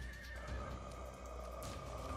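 A horse neighs in the video game Sacred, a single loud whinny over a steady game ambience, with no talking.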